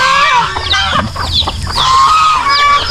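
Free-range chickens on a farm cluck steadily and close by, with bird calls rising and falling throughout and other poultry such as turkeys and geese nearby, and no talking.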